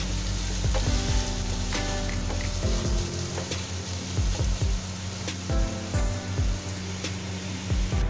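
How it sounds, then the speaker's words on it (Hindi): Ridge gourd and chana dal with green chilies sizzle steadily in a hot pan, with a loud continuous hiss broken by repeated scraping and clattering strokes as the mixture is stirred. "फिर इसे अच्छे से मिला लें और 2 से 3 मिनट के लिए इसे अच्छे से भून लें"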